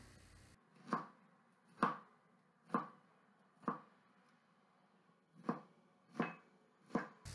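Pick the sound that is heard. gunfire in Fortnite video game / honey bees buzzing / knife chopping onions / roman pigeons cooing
knife chopping onions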